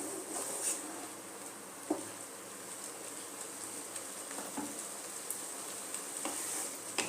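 Spicy tomato chutney simmering in a pan, a faint continuous bubbling sizzle with occasional light taps of a spoon.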